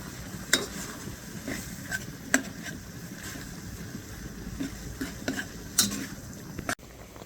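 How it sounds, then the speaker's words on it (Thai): A utensil stirs and scrapes minced fish in a hot pan for Lao-style larb, giving faint, irregular clinks and scrapes over a soft, steady sizzle-like hiss, with no voices. "ก็ขัวล้วนไปเรื่อยๆนะครับ ให้เนื้อปลามันสุกนั่นแหละครับ"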